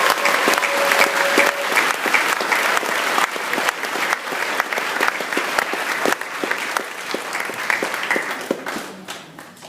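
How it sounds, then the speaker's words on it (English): Sustained audience applause at a year 12 farewell speech, a dense, steady wash of many hands clapping that fills the room, loud and even throughout. "massive round of applause"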